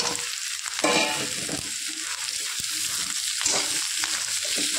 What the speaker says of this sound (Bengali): পেঁয়াজটা হালকা করে ভেজে নিয়েছি, এর সঙ্গে আমি দিয়ে দেবো আলুগুলো, কেটে রাখা আলু।